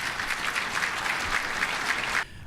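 Audience applause for speaker Toby Barker at an early childhood education policy event: steady, dense clapping from a crowd that holds even for about two seconds, then cuts off sharply.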